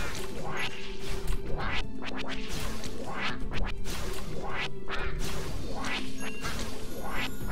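In Gryphon Knight, quacks from a duck come amid a flurry of smashing hits and swooshes, loud and dense over a continuous backdrop, quick repeated bursts with no voices.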